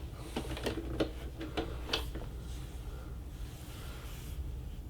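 A Brother SE625 sewing machine trims its thread automatically, giving a quick series of light mechanical clicks and ticks over a low, steady hum, close and fairly quiet.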